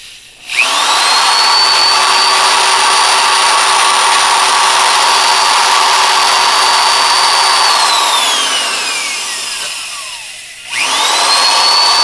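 A power drill driving a bit to bore a pilot hole for engine mounts: a close, loud motor whine that holds steady, winds down as the motor slows, then revs up again abruptly near the end, with no voices.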